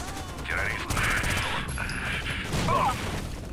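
Gunfire in Rainbow Six: Vegas, a string of sharp shots and mechanical clatter amid game effects, with a voice speaking briefly.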